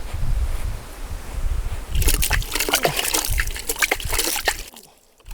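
Water is poured over a freshly cast concrete foundation to keep it from drying too fast, giving a steady splashing and trickling wash outdoors that ends abruptly near the end.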